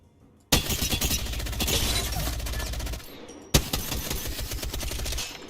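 Rapid automatic gunfire from a video game gun comes in two long, dense bursts with sharp onsets and a heavy low thump, loud and continuous over the game's background sound.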